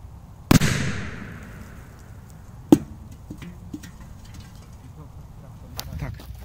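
A large firecracker bursts beneath a metal milk can with one sharp, loud blast that rings and decays, followed by a second, smaller pop a couple of seconds later and scattered outdoor rustling.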